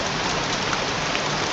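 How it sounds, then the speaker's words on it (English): Steady, heavy rainfall in the video game Heavy Rain, a dense uniform hiss of drops with no other sounds. "Goddamn rain, soaking wet."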